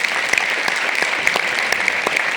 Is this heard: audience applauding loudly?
yes